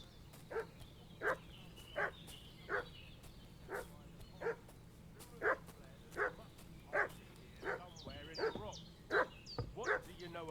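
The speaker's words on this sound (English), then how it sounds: "What's that dog making such a fuss about?" Dog barking in the medieval village of Kingdom Come: Deliverance II, a steady series of about fifteen sharp barks at an even rhythm, moderately loud over a low ambient hum, with rising whines near the end.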